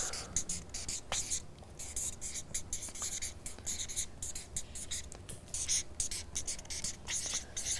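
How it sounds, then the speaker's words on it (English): Pen writing words on paper, close and quiet, with quick scratchy strokes in bursts and brief pauses between them, no speech over it. "So I'm just writing down the word transverbal language."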